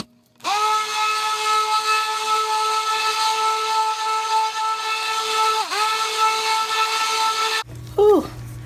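A stick blender mixing liquid soap paste runs with a steady high-pitched motor whine, continuous, dipping briefly once, then cuts off abruptly.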